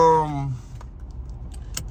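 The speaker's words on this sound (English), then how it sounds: "Put my seatbelt on." A seatbelt buckles inside a Ram 2500 pickup truck, two sharp, close metallic clicks after a brief spoken word at the start, set against a quiet cabin.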